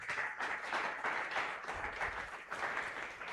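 Church congregation at a Pentecost worship service applauding and cheering, a dense steady wash of clapping and raised voices throughout, fairly loud and close with no single voice standing out.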